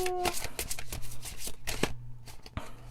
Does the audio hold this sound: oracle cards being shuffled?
yes